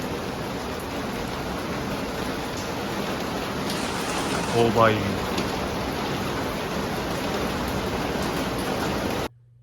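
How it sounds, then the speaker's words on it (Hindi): Heavy rain mixed with falling hail roars as a dense, steady hiss that fills the whole stretch. A voice briefly calls out over it near the middle, and the sound cuts off abruptly at the end. "बहुत ही तेज़ बारिश हो गई है और ओले गिर रहे हैं"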